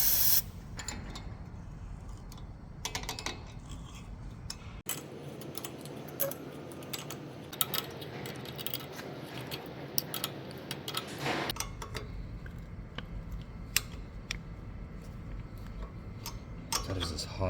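A tap turned with a spanner threads a bolt hole in a bulldozer transmission cover, giving soft repeated ticking and ratcheting clicks at close range over a low background hum.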